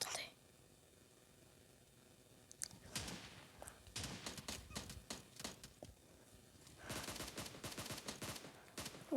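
Pump-action shotgun fire in the mobile battle royale game PUBG Mobile, heard as several sharp bursts among other gunfire and rapid in-game clatter, with faint background noise between bursts.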